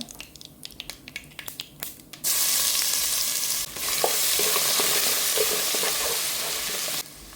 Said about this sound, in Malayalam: ഇനി ഇതിലേക്ക് നമ്മുടെ ഇഞ്ചിയും വെളുത്തുള്ളിയും ചതച്ച് വെച്ചിരിക്കുന്നതോടെ ചേർത്ത് കൊടുക്കുകയാണ്